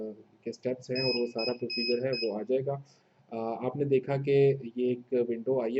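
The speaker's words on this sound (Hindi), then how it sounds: "आपको कंटिन्यूअसली बैकग्राउंड में बीप की आवाज़ सुनाई देगी क्योंकि एनवीआर या डीवीआर जब भी हम फर्स्ट टाइम ऑन करते हैं तो जब तक वो कॉन्फ़िगर नहीं होगा" A Dahua NVR being switched on for the first time, not yet configured, gives repeated high electronic beeps in the background while someone talks over them.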